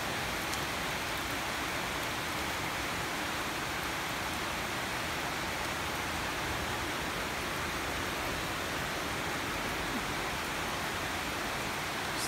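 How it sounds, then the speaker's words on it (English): Heavy rain pours steadily in Dumaguete, a dense, even hiss that holds at the same level throughout with no voices. "Heavy rain."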